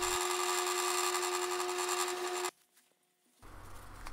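A power drill countersinks screw holes in a wooden knife handle, a steady high whine for about two and a half seconds that cuts off abruptly. A short pause follows, then a fainter rumble.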